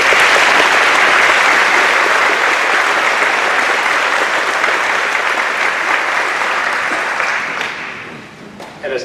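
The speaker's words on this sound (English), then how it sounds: "it certainly is appropriate to give both Adrian and Tanya a round of applause" Sustained, loud applause from a large audience at a school graduation ceremony, dense clapping that holds steady for several seconds before thinning out at the end.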